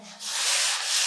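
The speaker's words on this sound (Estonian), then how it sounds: "Ma lihvin seda 180-ga." A wall is sanded by hand with 180-grit sandpaper, producing a close, steady scratchy rasp that swells and holds without a break.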